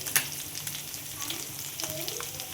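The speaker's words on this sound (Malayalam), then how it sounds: "അമ്മ സ്പെഷ്യൽ" Fish frying in a pan at home gives a continuous crackling sizzle with a few sharper pops and light stirring sounds, close and fairly loud.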